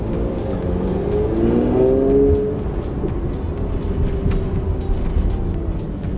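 A 2018 Mercedes-AMG GLC 43 4MATIC SUV pulls away from a stop in traffic, its engine note swelling and rising steadily under constant road and tire noise, with no talking.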